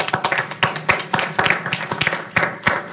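Applause at a school board meeting, with scattered, uneven hand claps from a small audience rising in irregular bursts over about three seconds, fairly close and without voices over it.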